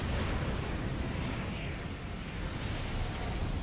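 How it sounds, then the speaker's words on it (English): In the mech combat game Armored Core: For Answer, a plasma cannon hits its target with a loud, continuous roar of explosion and rumbling blasts that stays dense from start to finish, with no speech. "got him with the plasma cannon"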